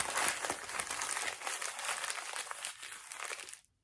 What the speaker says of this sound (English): I don't know why the paper makes me so joyful